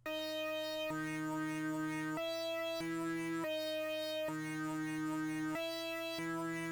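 A bright synth melody steps through short, abruptly cut notes over a low sustained bass, a choppy repeating pattern with no voices.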